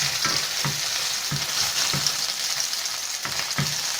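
Garlic sizzles steadily in a hot pan while preparing pork with broccoli, a continuous bright frying hiss broken by several soft scrapes and clunks from stirring.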